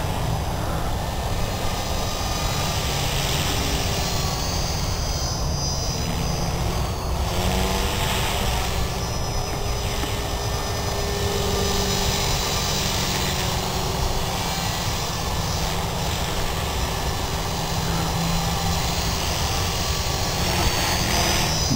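A T-Rex RC helicopter fitted with a Futaba gyro and servo flies rolls and loops overhead, its steady whining rotor and engine drone continuous and fairly loud throughout, with wind noise and no talk.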